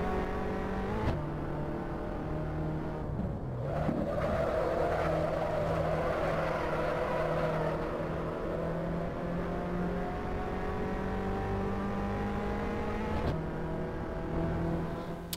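Race cars lap a track in the Assetto Corsa racing game, engines droning steadily with rising and falling pitch as gears shift, a continuous close mechanical whine with a brief skid-like surge.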